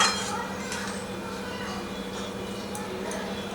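Doi potol with ghee being stirred in a cooking pan, a quiet run of light clinks and scrapes of a utensil against metal, all at a low, even level.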